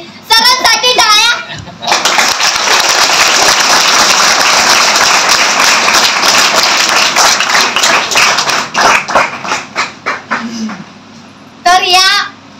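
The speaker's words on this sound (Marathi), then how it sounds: "सर्वांना विनंती करते त्यासाठी एकदा जोरदार टाळ्या द्या." An audience at a Savitribai Phule birth anniversary and women's liberation day event bursts into sustained loud clapping for several seconds, thinning into scattered claps, with voices heard before and after.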